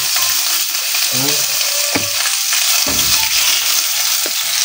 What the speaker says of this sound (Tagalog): Stir-fry din natin yung spinach.